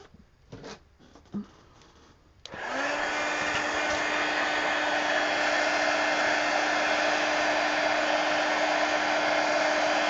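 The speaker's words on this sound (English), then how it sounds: "And let me hit all this with the heat gun." A heat gun drying paint and marker on an adult coloring book page switches on after a few seconds of faint rustling, then blows as a loud, steady whooshing roar with a constant hum to the end.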